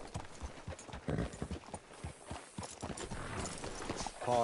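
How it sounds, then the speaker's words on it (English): Steady clip-clop of horse hooves at a walking rhythm in Red Dead Redemption 2, busy with layered game ambience and no talking. "Hitch your horse up here."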